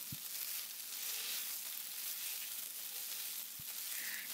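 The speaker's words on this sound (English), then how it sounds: "So continue frying that until it's fragrant, and then toss it with the rest of the carrot cake." Garlic and preserved radish frying with fried carrot cake in a hot pan at a Singaporean hawker-style stove, giving a steady, loud broadband sizzle throughout with two brief knocks of a utensil against the pan.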